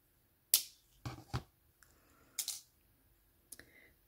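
Small snips of wire cutters through thin jewelry wire for bead pendants, a few sharp close clicks spaced apart in a quiet room, no talking.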